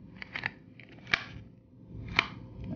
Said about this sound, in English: Put the battery back in.